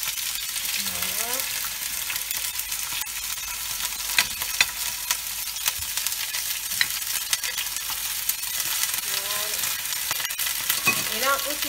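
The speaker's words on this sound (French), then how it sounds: "on va les déposer dans l'huile bien chaude" Beef paupiettes, alouettes sans tête, frying in very hot oil make a loud, constant crackling sizzle with scattered sharp pops and clinks, and a few brief murmurs of a voice.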